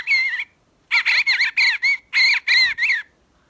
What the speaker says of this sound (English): That's the call of the eastern bluebird.